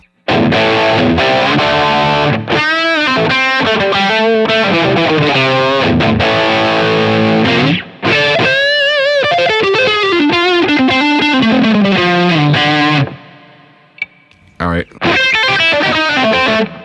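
Electric guitar with a distorted drive tone from a Line 6 POD Go running a Tonex One preset, played loud in continuous riffs and chord runs, with a short pause before the playing resumes.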